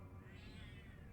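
A single soft, faint cat meow with a rising and falling pitch, brief and quiet.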